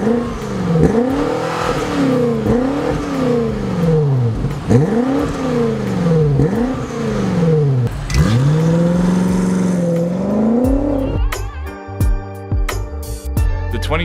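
A 2020 BMW X5 M Competition SUV with a 4.4-litre twin-turbo V8 accelerates hard. Its loud, rising engine note climbs through repeated upshifts, then drops away to quieter mechanical clatter near the end.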